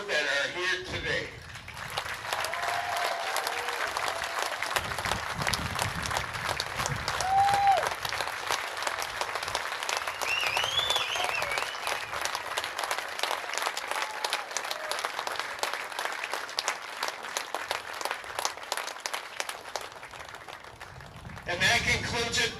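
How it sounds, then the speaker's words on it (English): Sustained applause from a crowd at a VFW state tournament closing ceremony, many hands clapping steadily for around twenty seconds in a large venue, with a few voices mixed in. "I think we need a nice round of applause for the 4 members of your VFW that are here today"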